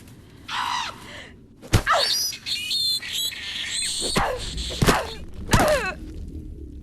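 A dying crow in a forest gives a series of rasping, strained calls, near and fairly loud, broken up by several sharp thumps.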